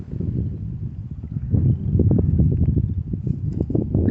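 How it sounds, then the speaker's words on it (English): Strong outdoor wind buffets the microphone at an air rifle shooting range, producing a loud, continuous low roar with gusting swells throughout. "I'm sure you can hear the wind out here. It's blowing like crazy."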